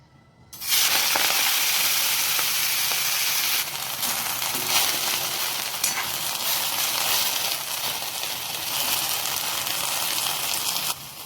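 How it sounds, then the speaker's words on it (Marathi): Washed fenugreek leaves sautéing in hot oil in a wok, a loud dense sizzle that bursts in suddenly and hisses steadily throughout, close and without talking. "सर्वप्रथम आपण धुवून स्वच्छ केलेली मेथी तेलात थोडी परतवून घेणार आहोत"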